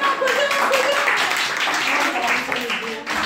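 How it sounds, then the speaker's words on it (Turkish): A small tour group in Cappadocia claps together, a brief scattered round of applause mixed with chatter and voices close by. "Bir alkış, koca bir alkış."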